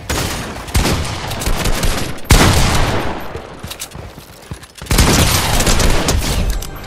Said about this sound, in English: I missed my shotgun shot.